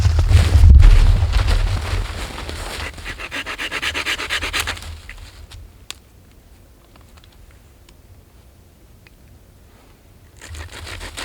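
Fatwood pine being cut from an old stump outdoors, a loud rough rasping and rubbing for about five seconds, then quieter scattered scraping and taps before a brief return of rubbing at the end.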